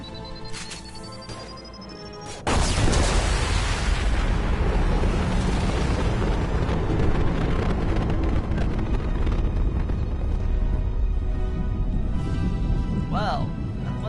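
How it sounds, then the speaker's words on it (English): A loud, booming explosion in a PS4 video game erupts suddenly and rolls on as a sustained, heavy roar of debris and rumble, with game sounds before it and a person speaking. "Well, that was an explosion."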